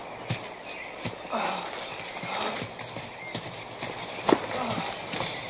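Horses stolen by outlaws on the Texas frontier clip-clop steadily across open ground, hooves falling in an uneven walking rhythm at moderate distance, with an occasional whinny and a few voices speaking over the hoofbeats.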